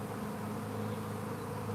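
A captured honey bee swarm, caged with its queen, hums in a steady, dense drone close by, the buzzing continuous and unbroken with no voices over it.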